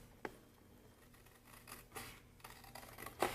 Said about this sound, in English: we're just using our scissors